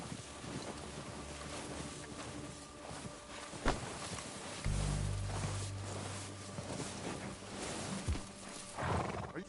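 Horse sounds from the Red Dead Redemption 2 video game, with wind noise, a low sustained rumble, and brief sharp hoof-like knocks scattered through the scene.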